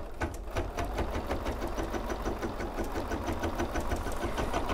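An embroidery sewing machine stitching couched wool, running steadily with a fast, even mechanical chatter of needle strokes, close and continuous, with no talking.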